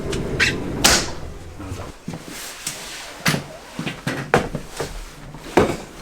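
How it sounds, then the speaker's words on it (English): A door opening at the entrance of the Savoy on a rainy day, with several knocks, clunks and handling bumps close by amid street noise, and no clear talk. "Doors open."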